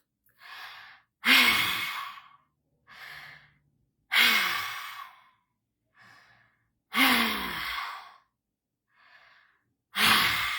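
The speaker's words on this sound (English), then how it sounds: "Breathing only in with the mouth." A guided breathwork exercise with repeated deep breaths, soft inhalations through the mouth alternating with loud, forceful exhaled sighs, four cycles in a slow regular rhythm, close and clear with no talking.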